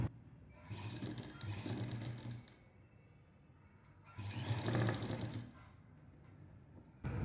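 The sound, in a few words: sewing machine stitching a lined jacket's neck piece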